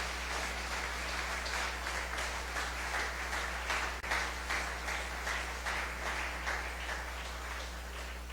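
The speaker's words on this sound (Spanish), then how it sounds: "Dáselo fuerte ese aplauso" A church congregation claps in a steady rhythm. The clapping is fairly faint and runs over a constant low hum from the room.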